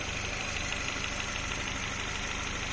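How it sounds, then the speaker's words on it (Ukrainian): A VW Golf GTI 2.0 TSI engine idles steadily with a low, even rumble and faint mechanical ticking, constant in level throughout with no voices. "І ось так у нас працює двигун."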